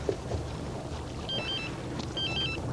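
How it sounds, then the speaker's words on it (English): A mobile phone rings aboard a fishing boat, two short electronic warbling trills heard faintly over engine rumble and wind. "Oh no, the bloody phone's going as well."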